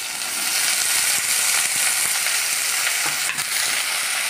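Potatoes and okra fry in hot oil in a pan for a fish-roe chochori, giving a loud, steady, dense sizzle with a few soft scrapes and clicks of stirring close by.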